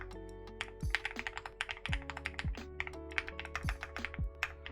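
Rapid keystrokes clack on a custom Keycult mechanical keyboard being assembled with stepped caps, a steady near burst of uneven typing with heavier thunking key bottom-outs, and no talk over it.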